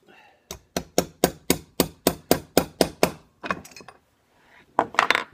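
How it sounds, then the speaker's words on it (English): Small plastic tubing for a nail knot tool is tapped tight into place: a steady run of about eleven crisp, evenly spaced knocks, then a few softer irregular taps and a final cluster of sharp hits. "I'm gonna tap it down in there, and it's gonna be nice and tight"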